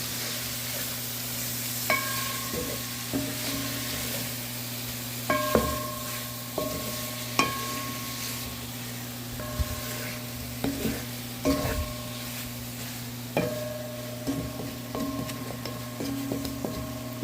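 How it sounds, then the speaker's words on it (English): Curry chicken with tomatoes and dried rosemary being stirred in a pot: repeated scraping, knocking strokes of a spoon against the pot at irregular intervals over a steady background hum and low simmer. "I will give this a stir."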